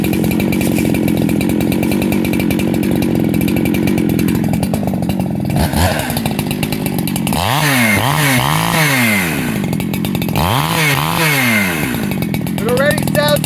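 A G372XP chainsaw engine, running slightly rich, idles steadily, then revs up and down in repeated swells, loud and close, with a voice speaking briefly over it.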